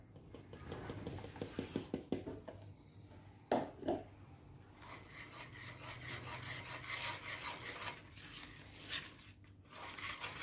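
Chocolate self-saucing pudding batter whisked in a bowl, with rapid rhythmic scraping strokes at first, a clink, then steady continuous whisking.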